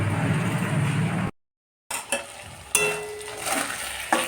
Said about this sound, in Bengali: আজ বেগুনগুলো এইভাবেই কেটে ভাজছি পেঁয়াজ দিয়ে ভাজছি